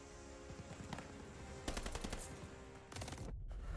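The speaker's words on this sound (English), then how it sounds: "Don't give those MGs a target." Enemy machine gun fire in the video game Call of Duty Vanguard, rapid rattling bursts of automatic shots over a busy battle din, with a few louder volleys.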